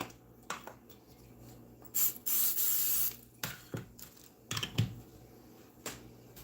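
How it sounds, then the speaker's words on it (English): A short hiss of aerosol cooking spray on a potato masher lasts about a second, surrounded by light clicks and taps of kitchen utensils in a quiet room. "spray the masher so they don't stick as you're mashing"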